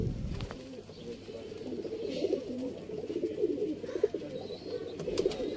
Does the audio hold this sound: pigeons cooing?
yes